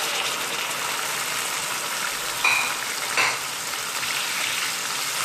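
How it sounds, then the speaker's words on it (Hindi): Chicken frying with onions in a handi pot for achari chicken, a loud dense steady sizzle throughout with two brief scraping stirs near the middle, close and without speech. "चिकन को ऐड करने के बाद अब मैं इसे इतना कुक करूँगी कि इसका कलर चेंज हो जाए"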